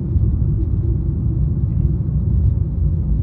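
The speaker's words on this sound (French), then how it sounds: "les déformations de la route, elles s'entendent un petit peu." Low, constant road rumble from inside a moving 2005 Peugeot Pop Art three-door car on an uneven road surface, a steady droning hum with slight uneven thumps, no talking.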